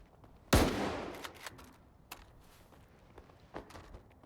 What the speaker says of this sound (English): He doesn't even notice the gunshot.